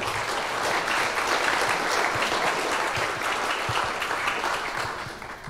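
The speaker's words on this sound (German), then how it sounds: "Einen herzlichen Applaus für Michael." Sustained, dense applause from an audience at a German conference talk on linking Active Directory and PostgreSQL roles, steady for several seconds and tapering slightly at the end, with no speech over it.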